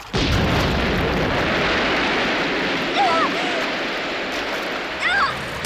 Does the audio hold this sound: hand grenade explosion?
yes